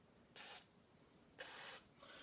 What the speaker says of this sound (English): I'm going to spray it right quick